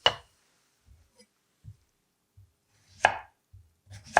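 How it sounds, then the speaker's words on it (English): A knife slices cucumber and lemon on a board for a gin serve, giving a few sparse, close cuts with soft thuds between them and sharper crisp strokes near the start and end. "I'm going to do 3 slices of cucumber and a nice wedge of lemon."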